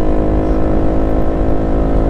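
Loaded small motorcycles of about 150–160cc passing on the road, heard as a loud, steady engine drone with a dense low rumble and a continuous mechanical whir throughout.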